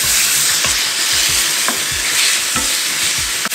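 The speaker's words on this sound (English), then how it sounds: "We're going to add this strawberry jam to the mix." Onion, jalapeno and strawberry jam sizzle loudly in a cast iron pan, a constant close frying hiss with occasional stirring scrapes and no voices.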